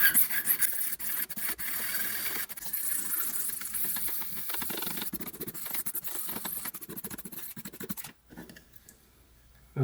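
Whittling knife blade rasping steadily on the 1200 grit side of a sharpening stone, repeated close scraping strokes, quiet and continuous, stopping briefly near the end.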